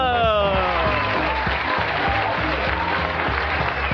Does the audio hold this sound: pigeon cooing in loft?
no